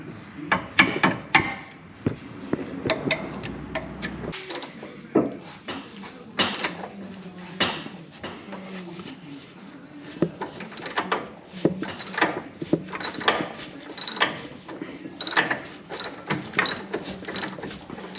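A cotter pin is worked out of the track bar on a Jeep XJ during a Metalcloak 3.5 lift install in a shop, with close, irregular metallic clicks, clinks and tool scrapes at varying loudness.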